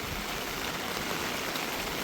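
Heavy monsoon rain pours steadily at a riverside, a dense, even wash of hiss with no breaks, close and loud throughout.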